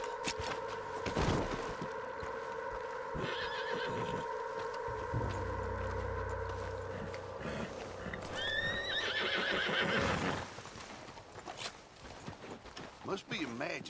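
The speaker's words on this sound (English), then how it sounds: "What's wrong with this horse, huh?" Horse in the Red Dead Redemption 2 video game neighs with a loud whinny amid steady hoof clip-clops, with game sound and spoken voices throughout.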